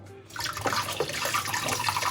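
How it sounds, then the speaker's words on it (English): Hot water runs steadily from a tap at close range, a continuous broadband splashing rush after a brief quieter start, used during DIY glass bottle cutting. "more hot water"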